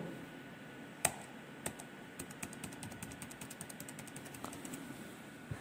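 Computer keyboard keys pressed on an Ubuntu machine while entering Ctrl O shortcuts: a couple of isolated clicks, then a quick run of light, close, evenly spaced taps over a quiet room hum.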